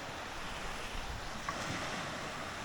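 Sea waves wash continuously onto an island shore as the tide rises, a steady broadband surf mixed with wind rumble on the microphone, with no voices.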